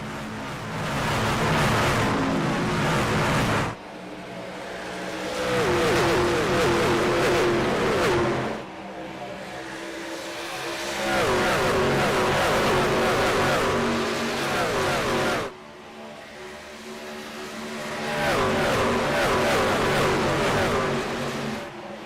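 Craftsman Truck Series race trucks roar around Texas Motor Speedway on a restart, the engine noise surging and easing in long loud waves as packs of trucks pass and fade.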